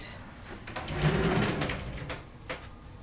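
Cabin drawers on the MSC Seaside cruise ship sliding open and shut, a few soft scraping slides and light knocks close by, fairly quiet, with no talking.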